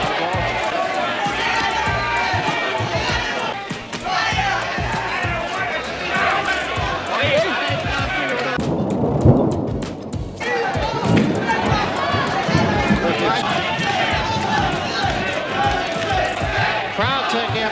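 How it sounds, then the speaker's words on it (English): Boxing arena crowd chanting a fighter's name during a bout, a loud rhythmic chant rising from dense crowd roar, with a commentator talking over it throughout. "crowd taking up a chant of Jose"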